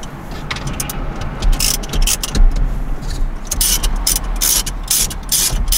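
Small metal clicks and ratcheting as 10 mm bolts are backed out of the dashboard trim on a 2007–2011 Toyota Camry during a head unit install, the clicks coming in close, irregular bursts over faint background noise.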